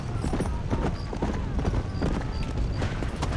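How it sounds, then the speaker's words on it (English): Horse hooves clip-clop at a steady trot in Red Dead Redemption: Undead Nightmare on Xbox 360, a continuous, moderately loud hoofbeat pattern with faint high game tones above and no one speaking. "What a good horse."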